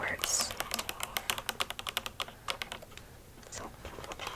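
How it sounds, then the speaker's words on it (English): Rapid clacking keystrokes on an Alpha Freewrite's deep-travel, old-school-style keyboard, close and crisp in a quiet room, steady bursts of typing with a brief pause near the end. "these feel like one of those old school keyboards"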